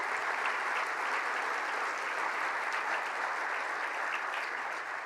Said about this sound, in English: Let's give them a round of applause.